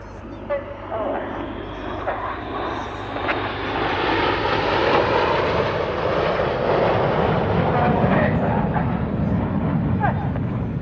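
Red Arrows jets performing a flying display at RIAT 2025, a broad steady engine roar that swells louder midway and holds, with a commentator talking over it.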